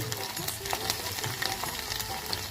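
Garlic dropped into hot oil in a pan while cooking garlic gojju, giving a steady, dense close sizzle and crackle with small stirring clicks throughout, no talking.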